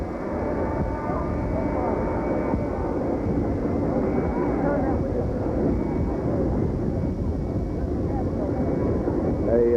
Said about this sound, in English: Now Air Force number 1 taxiing in.